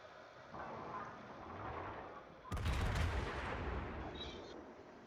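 Naval battleship gunfire booms from the Fuso in a World of Warships game. One heavy, rumbling broadside blast goes off mid-way over continuous battle ambience and fades slowly.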